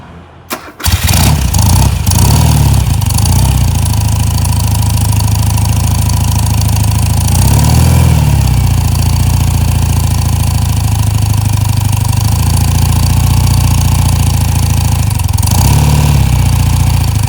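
A 1978 BMW R100S motorcycle on full choke cold-starts with a brief crank and catch, then settles into a loud, steady, close idle with a couple of slight swells in engine speed; no talking.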